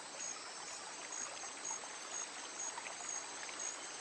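A river in The Secret of Monkey Island flows with a steady, soft rushing hiss, continuous and even, alone without voices.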